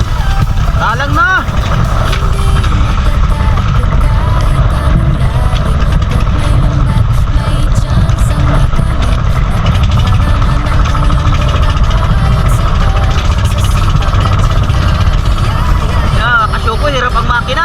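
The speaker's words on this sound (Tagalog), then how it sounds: "Hirap ang makina." A boat engine labours steadily and loudly at night during a spearfishing trip in the Philippines, running continuously close by while people talk over it.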